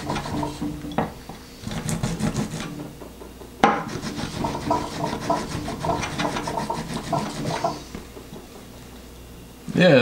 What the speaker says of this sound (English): For grater, for garlic, use brush to push garlic or grated garlic to center of the plate.